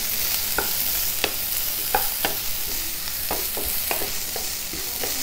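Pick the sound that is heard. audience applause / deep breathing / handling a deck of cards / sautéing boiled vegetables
sautéing boiled vegetables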